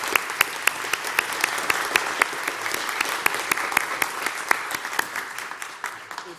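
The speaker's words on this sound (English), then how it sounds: "be sure and give Robert a wonderful round of applause this morning" A church congregation applauds during Sunday morning announcements, steady clapping from many hands with sharp individual claps standing out, sustained throughout without talk.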